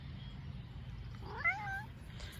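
A cat in a tilled garden bed gives a single short, faint meow, rising then falling, over a quiet outdoor hum.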